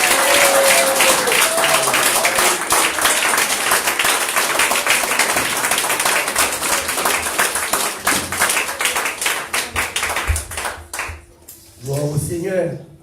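A church congregation applauds loudly and steadily, with dense rapid clapping that thins out toward the end, where voices briefly come through.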